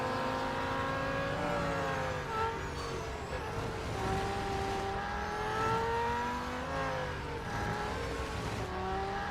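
Race car engine in the Real Racing 3 game revving hard and climbing through the gears, a steady loud whine with rising pitch sweeps and brief dips at each shift.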